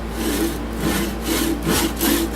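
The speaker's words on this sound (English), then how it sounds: "I'm just going to saw it off." Rhythmic rasping strokes of a hand saw cutting through a hickory tenon, close and steady, back-and-forth pulls repeating about every half second.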